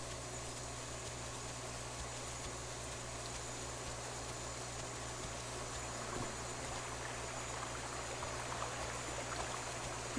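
Water flows and trickles steadily over a low constant hum in a video game, with no voices.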